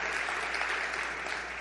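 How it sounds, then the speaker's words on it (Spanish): A church congregation applauds the Lord, giving a continuous, even wash of many hands clapping, fairly loud and without pauses throughout. "Denle un aplauso al Señor, si así lo creen"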